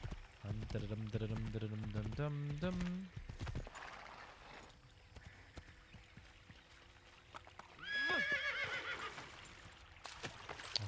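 A horse whinnies loudly twice amid Assassin's Creed game sounds, with hoofbeats clopping along; a voice talks over parts of it.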